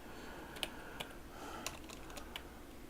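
Computer keyboard typing during a word game: a few sparse, isolated key clicks, about five soft taps spread unevenly over a few seconds, faint and close against quiet room hiss, with no voices.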